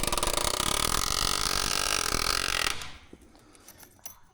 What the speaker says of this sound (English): when you push, it just starts hammering and nailing for you